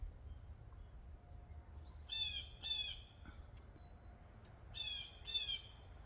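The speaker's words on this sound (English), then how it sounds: "Crow or Jay, one or the other." Crow or jay giving harsh, squawking calls in two pairs of caws, fairly near over a low outdoor background rumble.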